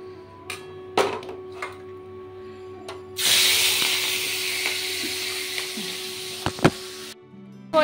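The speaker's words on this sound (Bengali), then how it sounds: "আর আমি এখানে মাছ ভাজছি" Fish frying in a pan in a home kitchen: a steady broadband sizzle rises abruptly after a few seconds of clatter and knocks, then holds fairly loud and continuous with occasional sharp utensil taps over it.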